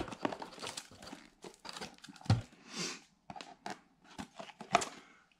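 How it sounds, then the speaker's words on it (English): Foil wrapper of a trading card pack from a Marvel Hit Parade box being crinkled and torn open, a run of close, irregular rustling, crackling and ripping bursts with short pauses between them. "Now let's open up our card here."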